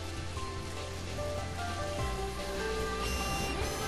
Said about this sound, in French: La pluie est bien faite, hein, au passage.